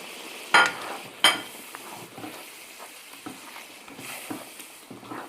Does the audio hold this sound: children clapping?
no